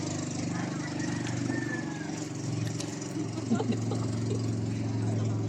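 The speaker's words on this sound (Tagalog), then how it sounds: "pakipatay nga po yung makina" A boat engine runs steadily at a low, droning idle, close and continuous, with faint voices and small knocks over it.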